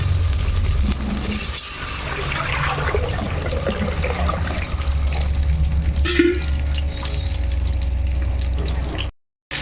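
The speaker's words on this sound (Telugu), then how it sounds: "ఇప్పుడు ఇందులో మనం వాటర్ వేసేసుకుందాం" Water pours steadily into a pot for chicken dum biryani, a loud continuous rushing splash lasting about nine seconds before cutting off abruptly.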